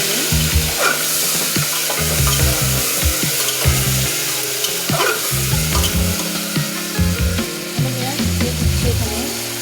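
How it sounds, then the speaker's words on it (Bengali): Meat fries loudly in a pan while being stirred and turned. A steady close sizzle runs under repeated scraping and knocking utensil strokes throughout, with no talking. "নাড়াচাড়া করে নিই।"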